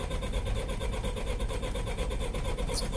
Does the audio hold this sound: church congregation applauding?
no